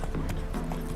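Horse hooves clip-clop steadily while riding through Novigrad in the video game Witcher 3: Wild Hunt, a dense rhythmic patter close up under game ambience with no talk.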